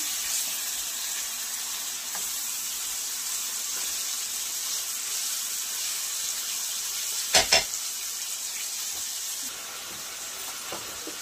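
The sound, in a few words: chicken pieces frying lightly in a pan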